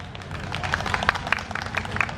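An audience applauds after a high school student group's presentation at a Jeju policy fair, a steady wash of many hands clapping at moderate volume.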